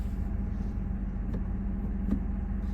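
A car moves off at low speed after being shifted into drive, its engine a steady low rumble close by, with two faint clicks partway through.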